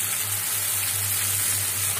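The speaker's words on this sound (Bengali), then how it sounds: "মশলাটা ভালো করে কষিয়ে তারপরে মাংসটার ভিতরে দিয়ে কষিয়ে নিচ্ছি ভালো করে।" Meat being sautéed with spice masala in a pan gives a continuous, even frying hiss with a steady low hum underneath, heard close and without talk.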